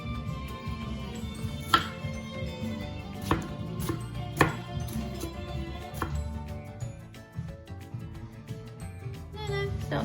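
Halloumi being cut for kebabs in a home kitchen, a handful of distinct knife taps against a board spaced irregularly over a low steady background, fairly quiet.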